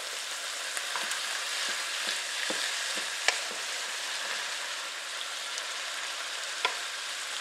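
An egg roll in a bowl mixture sizzles gently and continuously in a pan, with occasional soft pops and clicks rising over the steady hiss.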